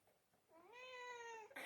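A house cat gives a single drawn-out meow, close and fairly clear against a quiet room, then a short sharp noise follows at the end.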